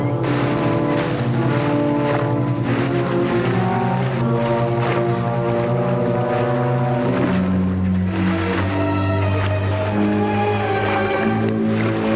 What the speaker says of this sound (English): there's Mr. Marco's motorboat